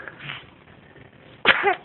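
A baby gives a single short, sharp sneeze near the end, close and fairly loud after quiet fussing sounds.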